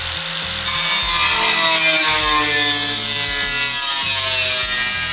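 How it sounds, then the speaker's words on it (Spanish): An angle grinder running: a constant, penetrating grinding whine with harsh high-pitched rasp, loud and close, running steadily without pause. "Seguimos con un esmeril angular, el que puede emitir un ruido constante y penetrante."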